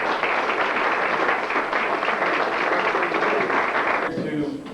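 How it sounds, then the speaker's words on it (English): Applause at a soccer team's end-of-season banquet, a steady dense wash of clapping hands that holds loud and even for about four seconds before thinning out near the end. "give a round of applause to that"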